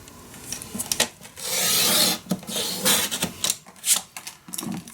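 Paper is scored for a handmade mini album, producing quick scraping, rasping strokes in short bursts, with one longer steady drag, close and fairly loud with no talking.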